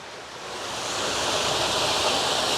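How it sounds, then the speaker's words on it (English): Rain on a canal boat cruising trip in heavy wind sets in as a broad, steady hiss that builds from moderate to loud within a second and then holds constant, close and enveloping with no voices. "That rain is coming this way."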